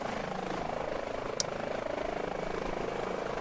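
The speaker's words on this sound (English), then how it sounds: "Don't ever laugh at my helicopter flying when you're parking your ambulance like that." Airbus H145 helicopter flying in Microsoft Flight Simulator, a steady, even rotor and turbine drone held at constant loudness throughout, with one brief sharp click partway through.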